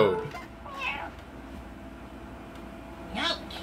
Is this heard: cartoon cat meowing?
yes